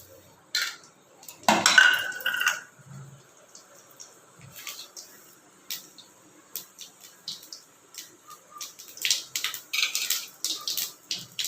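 Whole spices dropped into hot oil in a pan while cooking cauliflower masala, giving faint, scattered crackles and pops with a few louder clinks of utensil against the pan.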